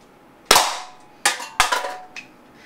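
A high-powered paintball gun fires at pop cans, giving three sharp, loud cracks spaced irregularly with a quieter fourth pop, each snapping off quickly in a quiet setting.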